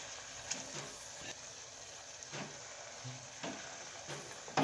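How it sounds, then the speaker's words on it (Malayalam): Chicken pieces for broasted chicken fry in hot oil with a soft, steady sizzle, faint under occasional low clatter from stirring. "ഇനി ബാക്കിയുള്ളത് കൂടി ഒന്ന് നമുക്കിതുപോലെ ഫ്രൈ ചെയ്തെടുക്കാം"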